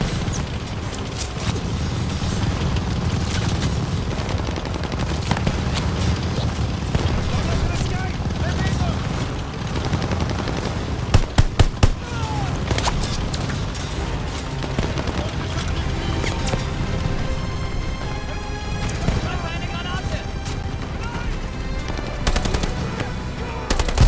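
Enemy machine gun fire in the Call of Duty Vanguard mission Operation Tonga: sustained rapid bursts and scattered gunshots, loud and dense for the whole stretch, with a few sharp cracks near the middle and shouted voices underneath.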